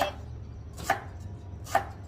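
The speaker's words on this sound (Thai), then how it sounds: "ตะไคร้มาหั่น" Lemongrass being chopped with a knife while preparing a pork and melon curry: three sharp, evenly spaced chops roughly a second apart, close and crisp over faint kitchen background, no talking.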